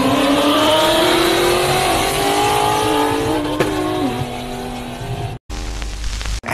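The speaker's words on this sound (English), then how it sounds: "While these two cars are racing, the white car shoots up way ahead for the win." Two cars race along a road, engines roaring loudly with rising revs and a tire screech near the middle, then a sudden cut to a different low rumbling engine scene.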